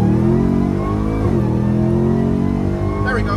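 A Ram TRX pickup with a Whipple supercharger accelerates hard through one or two gears, a loud close engine roar with rising pitch, a gear change dropping the tone before it climbs again, supercharger whine on top.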